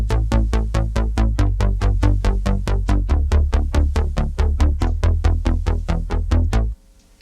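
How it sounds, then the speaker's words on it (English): Roland Juno 106 synthesizer playing a bass line, a fast steady run of punchy repeated notes, loud and close with no voices, stopping abruptly near the end. "The first one being a Juno 106, which plays the bass on this entire song"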